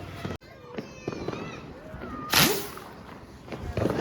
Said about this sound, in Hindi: भाई इधर सुतली बम फोड़ रहे भाई ये लोग, मेरे कान भीन हो रहे भाई।